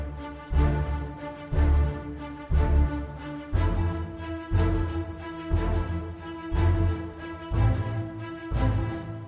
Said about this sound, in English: Together the string section sounds like this.